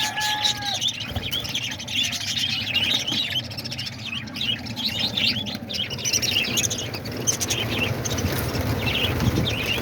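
Parakeets, lovebirds, cockatiels and diamond doves chirp and squeal together in an aviary, a dense continuous chatter of many close birds over a steady fan hum, without speech.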